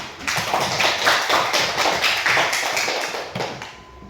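A classroom of students claps together in a short, loud burst of quick, rhythmic hand claps that stays close and busy for a few seconds, then fades out at the end.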